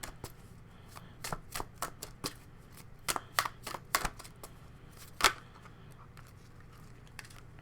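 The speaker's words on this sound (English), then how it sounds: "So pull 1 more from this deck." Tarot cards shuffled and a single card pulled from the deck, giving a run of crisp, close riffling snaps and flicks with a louder slap near the end, heard alone over a faint steady hum.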